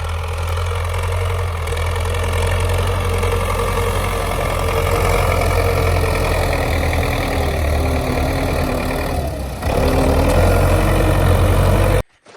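A tractor engine idles on a snowy farm while snow is pushed, a loud, steady low drone with a faint knock that runs unbroken before cutting off at the end.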